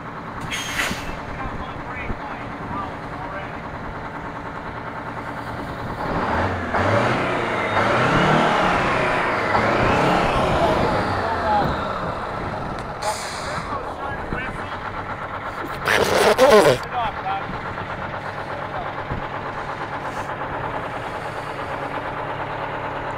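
An old Aerodyne cabover truck, back running after sitting 27 years, rumbles nearby with engine revs rising and falling, a sweeping pitch change mid-way and a sharp air-brake hiss burst, with voices talking throughout.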